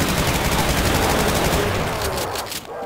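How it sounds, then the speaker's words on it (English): Rapid gunfire in the Brutal Doom video game, a dense loud burst of repeated shots fading out toward the end. "I'm gonna unload this gun so I can use those 30 bullets in the sheen gun."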